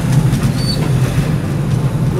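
A tram in Wrocław, Poland rumbles steadily past close by, a low continuous rolling drone with faint metallic squeals over it.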